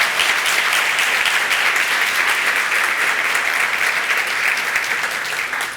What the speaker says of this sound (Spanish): Bueno, aplaudimos, claro que sí.